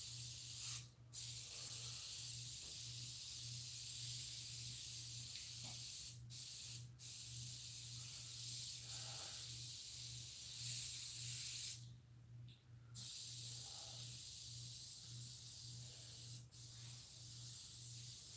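Alcohol hisses steadily through an ink spray gun being cleaned, a continuous loud spray broken by a few brief pauses, with a low pulsing hum underneath.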